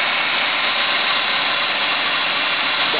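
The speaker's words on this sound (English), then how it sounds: "The engine runs good, the motor sounds great." A 1997 Ford Taurus with a 3.0 liter V6 engine idles with a steady, even hum, close and constant with no talking.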